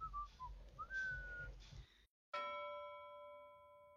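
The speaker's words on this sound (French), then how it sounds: "le voilà qui siffle" A boy whistles a few short rising and falling notes, clear and close, followed after a brief silence by a ringing metallic clang that slowly fades.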